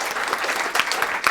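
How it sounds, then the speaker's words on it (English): An audience claps steadily, a dense burst of applause from many hands throughout the short moment. "Warm round of applause, please."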